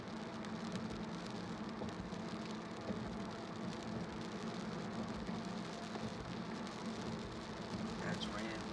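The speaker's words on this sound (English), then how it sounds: "That's raining a little bit more." Light rain patters steadily on a car in motion on a wide three-lane city street, a soft continuous hiss over the low drone of driving, windshield wipers left off.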